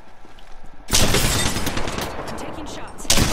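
Rapid gunfire bursts out in an Apex Legends battle royale fight, loud and close, a dense sustained volley starting abruptly after a quiet moment and a second burst at the end, with game sounds underneath.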